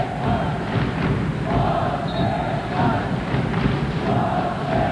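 Ateneo Blue Babble Battalion fans cheer without pause at a 1995 Ateneo versus La Salle college basketball game, a dense, steady crowd roar with scattered thumps throughout.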